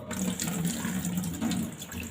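Water pours steadily from a tap into a sink over salt in a sieve, a continuous close gushing splash with no talk.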